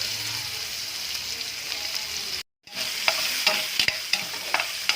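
Ginger, onion and garlic sautéing together in a pan give a steady close sizzle, with a short silent gap midway and then sharper clicks and scrapes as a utensil stirs them.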